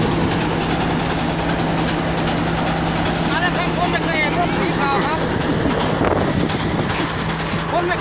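A customized rice threshing truck's engine drones loudly and continuously with a steady low hum, while voices talk over it throughout.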